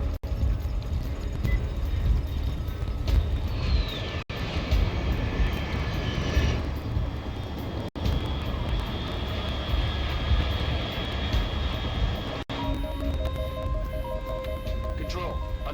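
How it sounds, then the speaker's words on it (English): A fast aircraft engine roars overhead in Metal Gear Solid Delta: Snake Eater, a steady loud drone sustained across the whole stretch with a rising whine, with radio-style voices speaking over it. "Unidentified aircraft detected."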